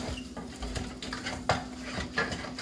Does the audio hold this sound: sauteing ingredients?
yes